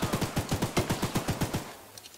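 A machine gun mounted on the train in the horror game Choo Choo Charles fires a rapid, rhythmic burst of about a dozen loud, evenly spaced shots before cutting off, with no talking over it.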